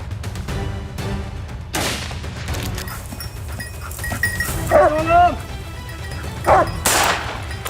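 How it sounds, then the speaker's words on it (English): Hounds bark during a nighttime wild boar hunt in a forest, a few sharp barks standing out over a steady low rumble and scattered noises, with voices in the background. "The barking of hounds mixed with urgent shouts across the radio"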